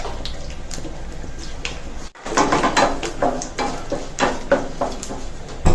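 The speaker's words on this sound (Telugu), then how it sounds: "పోపు వేగిందండి" Tempering seeds, curry leaves and green chillies fry in about one and a half spoons of oil for a chutney, giving a loud, close crackling sizzle that breaks in after a brief hush and keeps popping irregularly.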